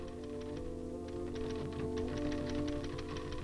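Typewriter keys clacking in rapid, irregular bursts as a typist works, fairly close and steady against a constant mechanical hum in the background.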